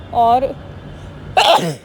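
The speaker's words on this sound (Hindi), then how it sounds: "छींक आ गई।" A woman sneezes with a cold outdoors in snowy mountains above Manali, a short sharp burst near the end following a brief spoken word.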